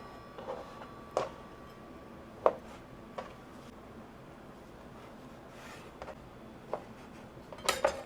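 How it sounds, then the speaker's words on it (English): A knife cuts corn tortillas into triangles on a board, giving a handful of sharp, separate taps spaced irregularly over a quiet kitchen background, ending with a quick pair of cuts. "I'm gonna cut them up into triangles like this"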